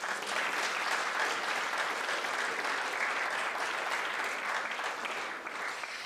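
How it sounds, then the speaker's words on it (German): Audience at a 2022 charity gala in Frankfurt, Germany, applauding steadily, a dense unbroken wash of clapping that holds evenly throughout. "für mich und für alle einen großen Applaus in die Runde"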